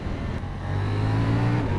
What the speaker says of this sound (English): The quick shifter will never get me bored.